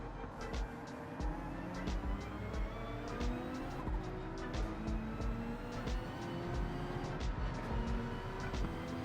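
A pack of race cars, including a GT Nismo, roars off the start at Daytona in Gran Turismo 7, with steady engine drone, rising gear-shift whines and tire noise throughout, as a voice talks over the racing.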